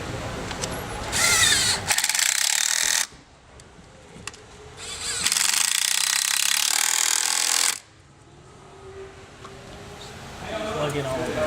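A power tool runs in two loud bursts of roughly two seconds each while tightening down HEMI fuel rails, with quieter handling noise between and after, and a voice talking in places.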